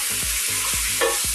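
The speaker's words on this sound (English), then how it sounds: "we're just going to saute the andouille sausage and we're going to saute the tasso" Andouille sausage and tasso sauteing in olive oil for Louisiana red beans, a steady close sizzle broken by several low scraping stirs and one brief louder clatter near the end.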